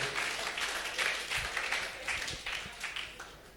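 Crowd applause at a talk on entrepreneurship, a steady wash of many hands clapping with rhythmic swells, moderately loud and filling the space without speech.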